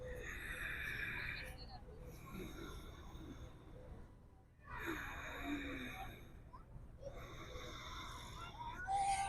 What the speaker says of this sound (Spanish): La respiración sonora es una respiración en la que tanto cuando inhalamos por la nariz como cuando exhalamos por la nariz, se escucha un ruido.